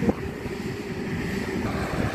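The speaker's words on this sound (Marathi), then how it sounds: "नाल्यातून पाणी चालू आहे बघा" Water flows steadily through an outdoor drain in green countryside, making a soft, continuous rushing wash. The sound is muffled and even, with no voices.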